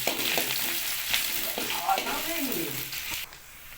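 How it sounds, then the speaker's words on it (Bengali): Onion frying in hot oil for a chicken liver dish, a continuous loud close sizzle with light stirring scrapes and clinks of the spoon against the pan. "পেঁয়াজ দিয়ে দিলাম। পেঁয়াজটাকে হালকা নেড়ে নিতে হবে।"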